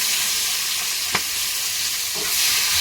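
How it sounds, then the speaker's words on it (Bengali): Nigella seeds, slit green chillies and chopped tomato sizzle in hot oil, producing a loud, continuous close-up hiss with a couple of sharp pops and splutters partway through. "তেলের মধ্যে দিচ্ছি কালো জিরে আর চেরাই করা কাঁচা লঙ্কা টমেটো কুচি"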